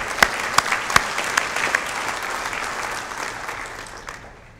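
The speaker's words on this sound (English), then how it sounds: "let's give them a round of applause anyway." An audience at the EMBC 2014 biomedical engineering awards presentation gives a round of applause, with dense clapping that starts crisp and loud, then thins and fades out over a few seconds.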